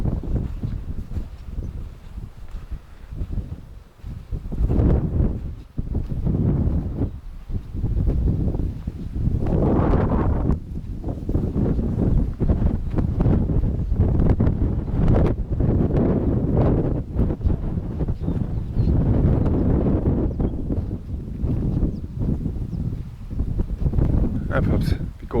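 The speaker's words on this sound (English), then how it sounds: "It's again a little bit windy." Wind gusting outdoors in Didim, Turkey, buffeting the microphone with steady low rumble throughout, under a person talking.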